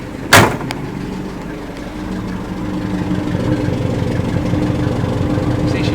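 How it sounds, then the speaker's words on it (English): Exhaust from a 1955 Buick Special Riviera two-door hardtop idles steadily, heard from the rear of the car in a showroom. A sharp knock or thump comes at the start, then an even, close, low rumble continues. "Step out and walk to the back here so you can hear the exhaust on it."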